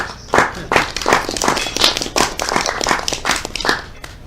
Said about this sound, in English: I wish to everybody give Howard a round of applause